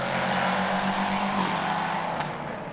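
GT race cars at Spa-Francorchamps scream past in close battle, with a loud engine wail whose pitch sweeps down as they go by and then fades slightly toward the end; no voices.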